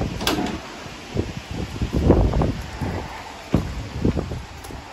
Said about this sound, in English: Into the side loading door.